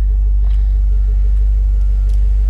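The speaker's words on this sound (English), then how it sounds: "I'm sorry about the exhaust if it's messing with the sound." Pontiac G8 exhaust idling nearby, a loud, deep, steady rumble that fills the whole clip without any talk.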